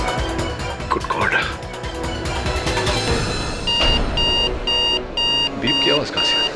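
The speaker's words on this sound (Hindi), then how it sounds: "बीप की आवाज कहां से?" A bomb in a Hindi drama scene gives off a steady run of short, evenly spaced electronic beeps, growing clear partway through over a dense, loud bed of background music and noise.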